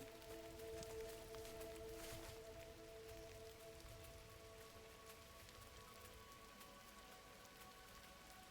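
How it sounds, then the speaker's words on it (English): Rain falls in the video game GRIS, a soft, even patter and hiss that holds steady throughout, quiet and alone over faint sustained tones. "I love rain. I like find it a really, really soothing sound."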